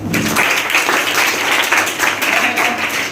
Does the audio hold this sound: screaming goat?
no